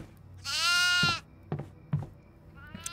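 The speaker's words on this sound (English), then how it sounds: "A goat." A loud, quavering goat bleat lasts under a second in the horror game Devour. A few soft footstep-like thuds follow in the quiet.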